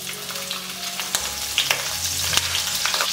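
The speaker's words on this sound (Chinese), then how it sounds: "爆香姜葱蒜" Ginger, scallion and garlic sizzling in hot oil in a wok before frying fish, a close, bright crackling hiss with a few sharp spatula scrapes and stirs.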